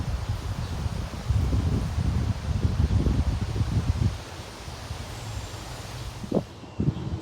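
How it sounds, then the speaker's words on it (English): Steady wind gusts in a garden roar and buffet the microphone with low rumbling noise, easing somewhat partway through, with a couple of faint knocks. "It's very windy out here. You're probably going to hear the wind."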